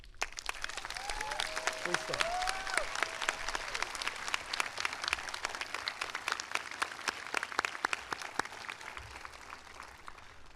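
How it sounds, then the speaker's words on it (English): Sustained audience applause at a high school graduation ceremony, dense and steady throughout, with a voice briefly speaking over the clapping near the start. "Please join me in a round of applause for our dedicated members of our faculty."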